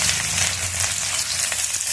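Onion frying in mustard oil in a wok, a loud, dense, continuous close sizzle with faint stirring underneath and no voices.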